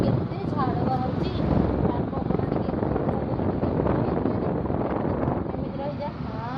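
Wind blows steadily and roughly into the microphone, a loud, continuous rumbling buffet that barely changes over the whole stretch.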